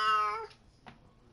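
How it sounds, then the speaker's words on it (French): A drawn-out meow from a house cat, close and fairly loud, fades out after about half a second, then a short faint noise follows in a quiet room. "Non, on va pas là, tu vas miauler encore plus."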